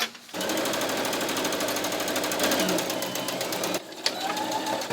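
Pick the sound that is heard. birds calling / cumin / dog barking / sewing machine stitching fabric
sewing machine stitching fabric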